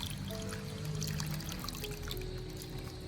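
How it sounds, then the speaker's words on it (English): Water runs steadily from a spout into a tub, a continuous pouring and trickling sound at moderate, close level, with no voices. "I turn on the spout"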